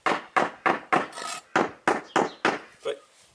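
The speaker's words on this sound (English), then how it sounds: "just a piece of wood and a lump hammer, so a heavy hammer, will probably do just as well" A heavy lump hammer knocks on a piece of wood laid over patio paving, giving about nine evenly spaced dull thuds, close and clear, with no talking.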